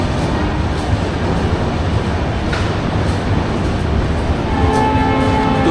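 A local train on the Amta line rumbles into Santragachi station in a loud, continuous rolling roar with faint clatter, a brief high squeal partway through and a tonal hum rising toward the end.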